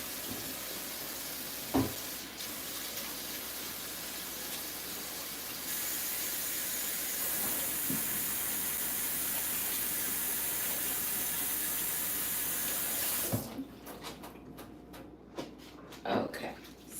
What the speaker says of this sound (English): We're going to wash our hands because we are dealing with meat.